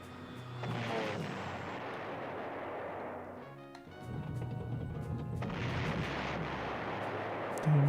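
Artillery fire in the PlayStation retro strategy game Panzer General: heavy, booming blasts roll on almost without a break, with one brief lull before the rumble builds again.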